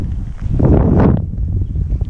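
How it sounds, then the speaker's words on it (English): A gust of wind buffets the microphone outdoors beside open fields and horse farms in Seevetal, swelling into a loud rushing roar for about a second before easing back to a lower blustery rumble. "it's kind of windy"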